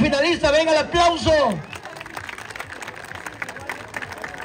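Crowd applause at the final of a presidents' tournament in Tecolutla, a scattered patter of clapping with some crowd noise that follows a loud spoken announcement over a PA and carries on fairly steadily behind it.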